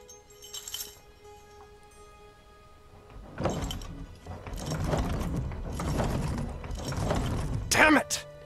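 A locked barn door in the video game The Beast Inside rattles and clanks on its bolt in several metallic bursts. A quiet lead-in comes first and a sharp clink closes the sequence.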